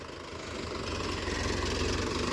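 A Mahindra Yuva Tech+ 585 tractor engine drones steadily as it pulls a plough through red-soil farmland, a continuous loud rumble with a knocking pulse that swells slightly, with no voices.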